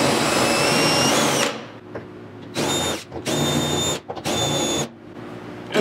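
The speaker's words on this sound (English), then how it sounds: "There's this drill bit, which was ground flat, and now I can use it to remove the paint from the hose." A drill with a bit ground flat strips paint from a hose during a 1972 Triumph GT6 restoration, running in one long whine followed by three shorter bursts, loud and close.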